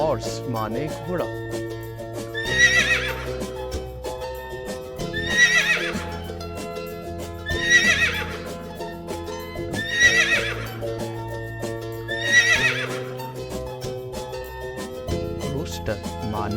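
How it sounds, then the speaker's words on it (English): A horse whinnying repeatedly, five shrill neighs spaced a couple of seconds apart, heard over hoof clip-clops and steady background music. "horse माने घोड़ा."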